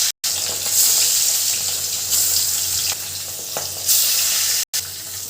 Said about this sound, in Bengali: তো কড়াইতে তেল দিয়ে দিলাম। তেলটাকে ভালো করে গরম করে নেবেন, একটু লবণ দিয়ে দিবেন। এখন মাছটাকে ভেজে নেব।